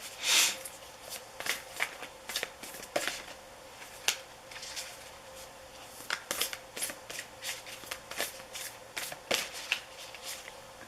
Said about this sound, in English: Get your next card shuffled up here.